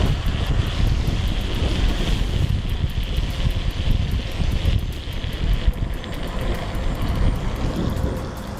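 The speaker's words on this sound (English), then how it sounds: "I just never get tired of splash tests." A Ninebot Z10 electric scooter rides through standing water, throwing up a steady, loud rushing wash of spray mixed with heavy wind buffeting on the microphone, with no voices.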